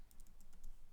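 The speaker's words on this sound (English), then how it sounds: "And let's type Thomas" Quick keystrokes tap on a computer keyboard, about half a dozen light clicks in a brief burst, close and quiet.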